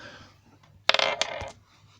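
A single die tossed onto a tabletop during a fantasy gamebook session: a short burst of rattling clicks and tumbling knocks lasting about half a second, close and fairly loud, against a quiet room.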